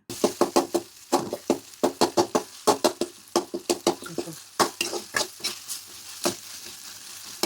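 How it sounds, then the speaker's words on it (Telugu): Onions and tomatoes sizzle and frying in a pan for village-style mutton boti curry while a spoon scrapes and stirs in quick, repeated strokes, loud and close. "ఇప్పుడు మళ్ళీ ఒకసారి కలుపుకొని ఈ టమోటాలని బాగా మగ్గనివ్వాలి"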